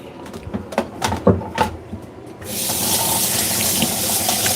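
Kitchen tap runs steadily as hands are washed in a sink after cooking, a broad rushing stream that starts partway through after a few soft clinks and handling sounds, close and continuous to the end.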